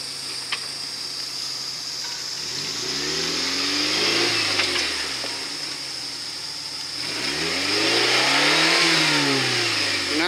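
An off-road vehicle on a four-wheeling trail revs its engine while backing up, two swelling rev surges rising and falling over a steady idle rumble, close and fairly loud, with no talk.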